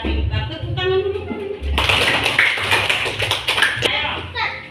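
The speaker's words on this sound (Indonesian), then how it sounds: "Tepuk tangan dulu." Schoolchildren in a classroom break into brisk group clapping, loud and close, with a rhythmic burst of claps following a teacher's voice and children's chatter mixed in.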